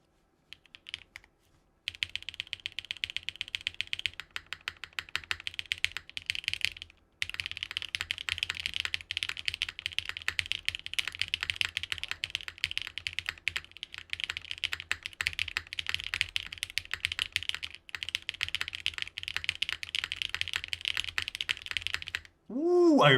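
Fast, continuous typing on a TKL mechanical keyboard, close and crisp clacking keystrokes in a steady stream with a couple of brief pauses, no talk over it.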